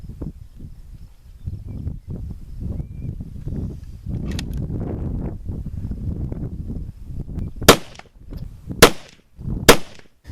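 A Weatherby Compact Hunter .308 rifle firing Remington ammunition at an outdoor range gives three sharp, loud shots about a second apart near the end, following quieter handling and wind noise.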